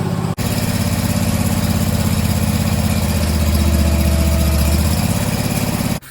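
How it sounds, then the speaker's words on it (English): A Barreto tracked trencher's engine runs steadily and loudly, a continuous close-up drone with no talk, cutting off abruptly near the end. "I'm going to go ahead and shut the engine off"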